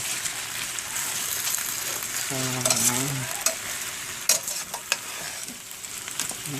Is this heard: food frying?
yes